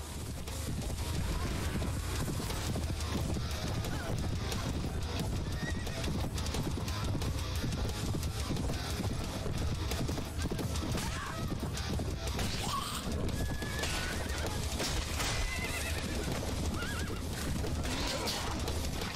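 Horses whinny and hooves clatter amid a dense, continuous battle din that stays loud throughout, in the video game Mount & Blade mod Prophesy of Pendor.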